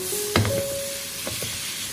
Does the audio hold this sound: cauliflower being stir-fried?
yes